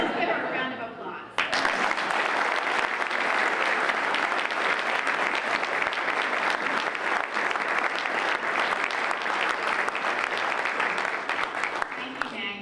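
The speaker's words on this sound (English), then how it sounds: "Let's give her a round of applause." A speaker talks briefly before a room of members at a Rotary Club meeting breaks into loud, sustained applause that holds steady for more than ten seconds.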